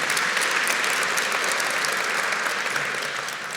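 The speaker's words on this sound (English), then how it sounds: "Let's give them a round of applause" A crowd claps steadily in sustained, dense applause that fades slightly toward the end.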